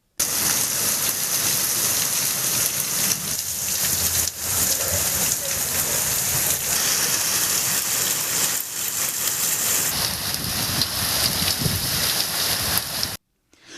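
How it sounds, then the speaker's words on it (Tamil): Heavy afternoon rain lashing down in Tamil Nadu, a dense, constant loud hiss of downpour on surfaces with faint rumbles, steady throughout before cutting off near the end. "மாலையில் சுமார் 1 மணி நேரம் மழை வெளுத்து வாங்கியது"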